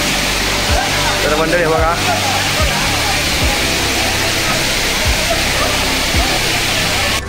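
Waterfall at Nhavankond pours in a steady, loud broadband roar filling the whole clip, with people talking over the rushing water.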